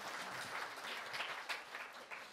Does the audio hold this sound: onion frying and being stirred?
no